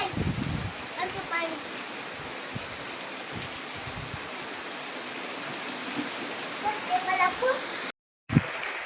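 A steady wash of rainwater flowing along a village drainage channel, carrying debris, with a voice talking faintly beneath and a brief dropout near the end.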